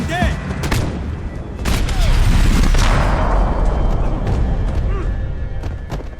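Bursts of gunfire crack and boom in a dense, noisy Max Payne 3 battle, with heavy thuds and sustained rumble throughout.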